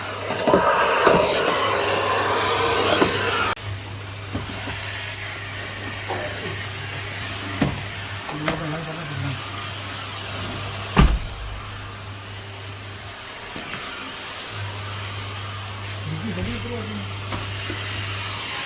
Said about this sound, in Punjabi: ਹੁਣ ਮੈਂ ਲੱਗਾ ਜੀ ਕਰਨ ਵੈਕਿਊਮ ਗੱਡੀ ਨੂੰ